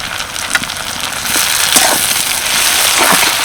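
Chopped tomato lands in hot oil with fried onions, setting off a loud, steady crackling sizzle that surges and then holds close and continuous, with a few clinks from the pan.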